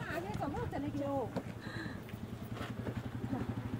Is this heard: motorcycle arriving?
yes